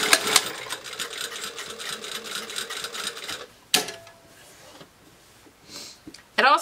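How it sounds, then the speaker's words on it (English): A sewing machine stitches across the top and sides of a bag pocket, fast close rhythmic needle chatter in short runs with pauses and handling sounds between, and a person speaks over it. "I'm gonna sew diagonally across the top, and then I will start sewing down the sides of the pocket"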